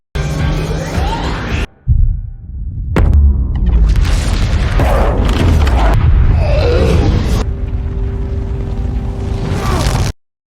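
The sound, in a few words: missile explosion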